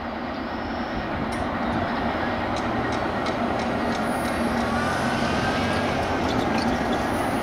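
A CSX coal freight train rumbles past close by, a loud continuous roar with rattling wagons and faint clacking throughout.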